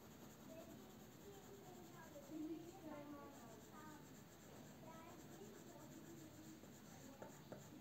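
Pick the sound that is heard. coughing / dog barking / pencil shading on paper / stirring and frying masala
pencil shading on paper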